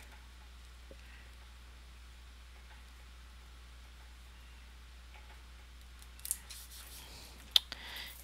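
Scissors snip sticker paper in a quiet room: a few brief sharp cuts near the end after a long near-silent stretch.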